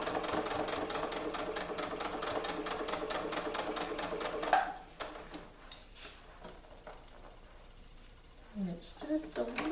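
A home sewing machine runs a straight stitch along a seam in stretchy recycled leggings, a fast even rattle of needle strokes for about four and a half seconds before stopping, then quiet handling noises with someone talking.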